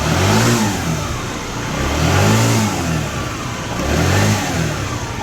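A scooter engine started with a jump-starter booster pack revs up in three loud surges, each rising and falling, with a steady running drone between them and no talk.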